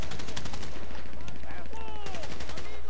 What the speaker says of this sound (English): No, I got them all shooting at me.